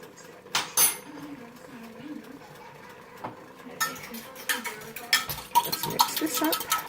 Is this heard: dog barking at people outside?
no